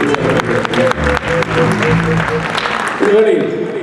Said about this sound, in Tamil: கரகோஷங்களை கொடுத்து